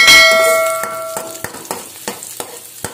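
Garlic and onion saute in hot oil with a loud sizzle that eases after the first moment, while a utensil stirs the pan with regular metallic clanks and scrapes.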